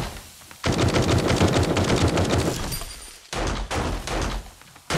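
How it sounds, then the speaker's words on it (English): Rapid automatic gunfire from a super loud SMG fired by a friendly NPC raider in the game 7 Days to Die, sustained loud bursts with a brief gap, no talk. "there is an NPC over here with a super loud gun, so I'm guessing it's the SMG"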